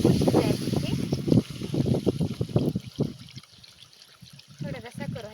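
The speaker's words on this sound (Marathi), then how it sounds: "थोडंसं पाणी टाकून शिजायचं ते." Water trickles as it is poured into a chicken curry cooking at a dam-side campsite, a light liquid dribble heard beneath people talking.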